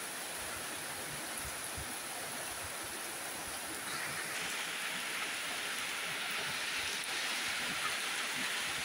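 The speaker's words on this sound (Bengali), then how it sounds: "আজ দুদিন যাবৎ টানা বৃষ্টি হচ্ছে।" Heavy, continuous rain falls in a hill settlement after two days of downpour, a steady broad hiss of drops on surfaces that stays even and close for the whole stretch, with no voices.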